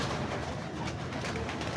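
High-flyer breeder pigeons coo softly in low, rolling, throaty murmurs, nearby and continuous, with no voices over them.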